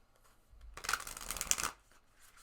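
Tarot cards are shuffled for a single draw, making a quick riffling burst that swells for about a second before stopping, close and soft with no talking over it.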